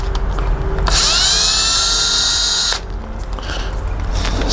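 A power drill spins out the screws on a Ring doorbell mount in one brief, loud whirring burst with a rising pitch, close up. It stops abruptly against a quiet background.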